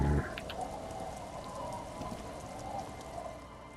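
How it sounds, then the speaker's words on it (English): Steady rain falls in the video game Disco Elysium, a constant broadband hiss with scattered droplet patter, even and fairly soft throughout, with no voices. "Oh, great, it's raining again."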